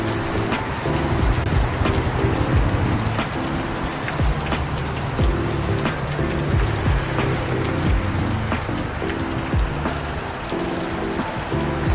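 Heavy rain falls in Manila as a dense, continuous hiss with scattered drops and patters striking nearby surfaces, steady and close, with a low hum underneath and no talking.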